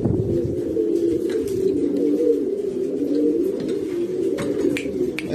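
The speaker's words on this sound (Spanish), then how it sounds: "y sale este pichón azul" A blue pigeon squab coos in a loft, a steady low warbling murmur running through the whole stretch with other birds' faint chirps scattered above it, fairly close and continuous.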